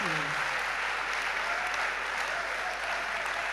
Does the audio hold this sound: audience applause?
yes